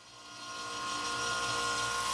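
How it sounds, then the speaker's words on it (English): A table saw making a non-through cut in wood: a close, steady motor whine that swells and holds for about two seconds, with no voices. "I actually prefer making non-through cuts on the table saw."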